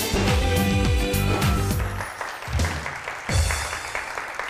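An audience claps for a contestant on a makeup artist competition show, a burst of applause that thins and swells again over several seconds while music plays underneath.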